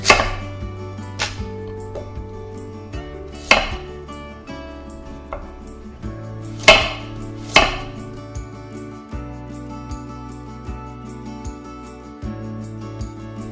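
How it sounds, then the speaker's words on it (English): A knife slices a carrot into strips on a cutting board in close, crisp chops, sometimes irregular and sometimes in quick pairs, with a few louder thuds over a soft background hum and no talking. "Slice the carrot into strips."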